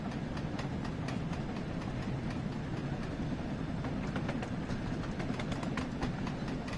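A steam locomotive cruising along in the railway game Train Sim World 2, with a steady dense rumble of running gear and faint rhythmic clicks of wheels over rail joints throughout, no talking.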